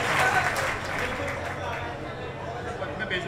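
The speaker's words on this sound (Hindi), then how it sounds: "एक बार जोरदार तालियां आप बजा दीजिए" Audience at a mushaira poetry gathering in Kandhla clapping in a dense, sustained burst, loudest at the start and tapering slightly, with crowd murmur and voices mixed in.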